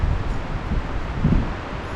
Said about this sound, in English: Hopefully the wind will just die down here later.